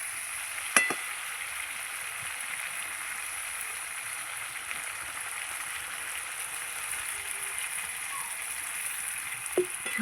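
Spiced potato curry with fish sizzles and fries steadily in a pan after water goes in, a soft continuous crackle with a couple of faint clinks from a utensil.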